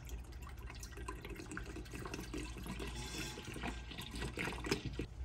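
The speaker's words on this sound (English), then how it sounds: "we're going to put our pot on, dump our entire gallon of milk in" A full gallon of milk pours into a pot on the stove for homemade yogurt, a steady liquid rush and splash that carries on without a break for several seconds, close and alone with no voices.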